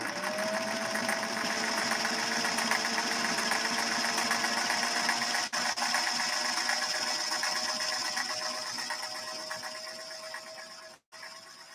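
A Singer 401 Slantamatic sewing machine stitches a decorative pattern, a fast steady mechanical whir and rattle running continuously, briefly pausing near the end.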